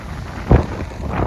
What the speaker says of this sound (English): Should give you some idea of just how windy it is here.